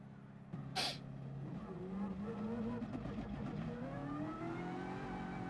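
Ford GT race car engine in the racing game GT Sport, a droning engine note that climbs steadily in pitch as it accelerates, with a brief sharp burst near the start and no talk.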